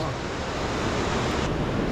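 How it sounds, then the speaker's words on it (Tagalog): Strong river current rushes out of Tinipak Cave in Daraitan, Tanay, Rizal, a loud, steady wash of water heard up close with no pauses. "ayan yung labasan ng tubig ng kuweba oh. Ang lakas ng agos."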